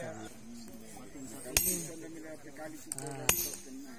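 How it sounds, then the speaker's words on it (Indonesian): A metal chisel strikes stone twice, at a Toraja simbuang batu stone-monument ceremony: two sharp, ringing clinks spaced well apart over a low murmur of voices and ambient sound. "sementara batunya dipahat."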